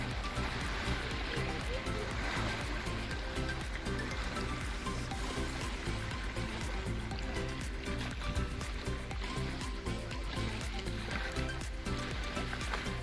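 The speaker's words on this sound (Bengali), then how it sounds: "অনেক ঢেউ আছে, ঢেউয়ের শব্দ শোনা যাচ্ছে।" Waves lap steadily at the bank of a clear river, a dense continuous wash of water with no breaks, fairly close and alone.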